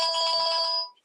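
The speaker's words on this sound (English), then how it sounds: "the ones that the old British phones had, which is like a bell sort of ringer" Old British telephone bell-style ringtone from a 4021-type handset, a rapid trilling ring with bright ringing tones, heard close and clear for under a second before cutting off.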